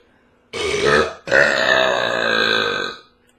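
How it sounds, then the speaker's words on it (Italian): Two deep, close belches from a man: a short one, then after a brief gap a long, loud, rumbling burp that fades out. "Sono in ritardo sempre con i rutti."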